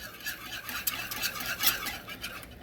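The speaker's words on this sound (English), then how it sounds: "You just get that, whisk that in there." Keto chocolate sauce being whisked with milk in a pot, a quick, close, steady scraping and swishing with light metallic clinks, continuous for a few seconds with no talking.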